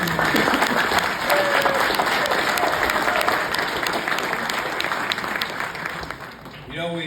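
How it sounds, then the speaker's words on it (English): A large gathering at a community event gives a round of applause, with dense, steady clapping that fades slightly toward the end as a voice begins speaking over it. "let's give them a round of applause"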